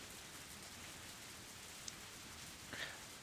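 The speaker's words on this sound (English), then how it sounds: "The sound of rain resumes." Steady rain falls as a constant broadband hiss in an audio drama reading, with a couple of faint drip-like ticks and no voices over it.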